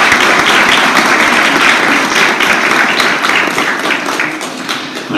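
An audience at a school literary award ceremony in Široki Brijeg claps loudly in a dense, sustained round of applause that tapers slightly toward the end.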